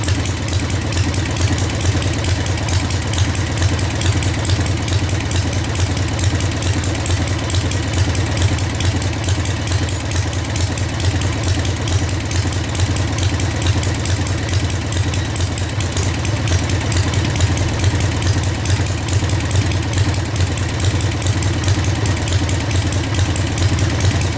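A 1947 Harley-Davidson Knucklehead bobber motorcycle engine idles steadily nearby, a continuous low, throbbing rumble that holds an even level for the whole stretch without revving or talk.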